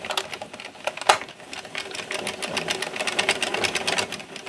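A knitting machine runs its carriage slowly across the first row of an infinity scarf, giving a steady mechanical clatter of rapid rhythmic clicks with one sharper knock near the start.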